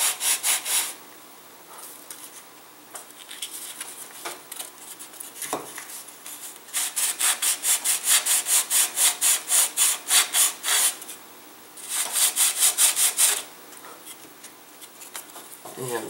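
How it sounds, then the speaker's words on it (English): Balsa wings of an F1N catapult glider sanded to a bevel for dihedral, giving rhythmic rasping strokes in fast bursts of back-and-forth scrubbing, close and fairly loud, with short pauses between runs. "we're going to sand these wings for dihedral. So we're just beveling it like that."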